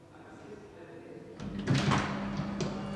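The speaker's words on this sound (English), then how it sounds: "Oh, the door is opening." A door opens at a gallery entrance, with a muffled clunk followed by a low sustained rumble from the door mechanism, heard over faint background murmur.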